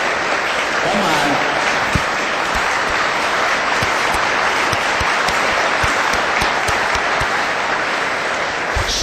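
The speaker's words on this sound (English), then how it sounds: "Would you give them a nice round of applause?" An indoor meeting audience gives sustained applause, a dense, steady wash of clapping from many hands that lasts throughout, heard from within the room.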